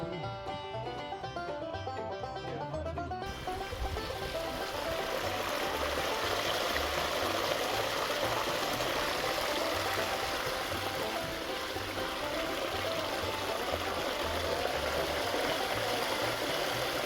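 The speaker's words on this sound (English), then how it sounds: "we'll put this away and hook up the pump" Water pump running for high-banking gold sluicing: a steady, loud engine drone with a rushing water wash, continuous and unchanging after a brief louder start.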